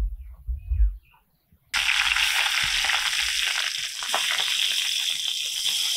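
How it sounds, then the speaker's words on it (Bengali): After a few low thumps and a pause, hot oil in a wok bursts into a loud, steady sizzle as fish goes in to fry, continuing without a break. "এবার আমি মাছগুলো ভেজে নেবো।"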